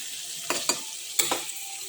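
Food frying in a pan while being turned over, with a soft steady sizzle broken by a few sharp stirring scrapes and crackles, close up and with no talk.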